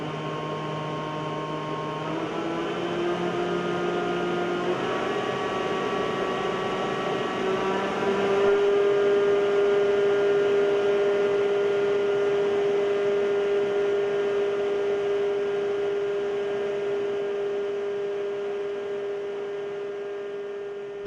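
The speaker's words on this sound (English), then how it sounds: "And this is how the rotor rotates" A computer-controlled wind turbine rotor spinning in wind flow, a steady mechanical hum with tones rising in pitch as it speeds up, then holding a constant whine, continuous and fairly loud.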